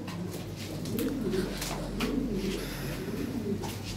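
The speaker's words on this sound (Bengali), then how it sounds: "খুব ফার্স্ট ক্লাস কবুতর" Golden dun Lahori pigeons, big-sized birds, coo in soft repeated throaty rolls close by, the low murmuring calls rising and falling over a faint steady hum.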